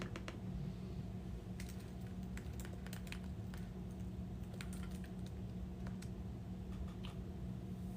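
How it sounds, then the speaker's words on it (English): Typing on a computer keyboard in short bursts of quiet clicks, the keystrokes faint and somewhat distant over a constant low hum of room or fan noise, with no voices. "Make sure I'm typing on the website."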